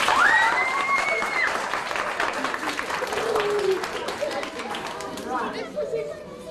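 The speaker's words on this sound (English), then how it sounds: "Let's give him a round of applause." Students and staff at a school applaud and cheer for South African President Cyril Ramaphosa, with lively clapping mixed with excited crowd chatter and a few raised voices before the noise begins to fade.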